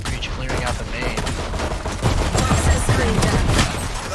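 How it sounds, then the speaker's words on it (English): Dense gunfire from a shootout in A main during a competitive Valorant match, rapid overlapping shots and tapping bursts sustained loudly throughout with no talk. "It's a full shootout in A main."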